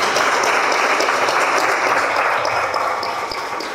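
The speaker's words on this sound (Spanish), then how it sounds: "un aplauso para Don Quintín." Exhibition audience at a neighbourhood expo in Barrio Boca gives a hearty round of applause, a loud continuous clatter of many hands that stays strong and eases slightly toward the close.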